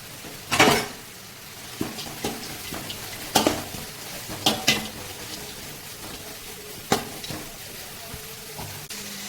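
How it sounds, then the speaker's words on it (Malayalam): Sliced onions sautéing in hot coconut oil for a vegetable biryani, a steady low sizzle broken by several sharp clinks and scrapes of a spoon stirring in the pan, close and moderately quiet, with no talking. "നമ്മുടെ സവാള ഇട്ടിട്ടുണ്ടെങ്കിൽ കൊടുത്തിട്ടുണ്ട് ഇതൊന്ന് വഴറ്റുന്നുണ്ട്"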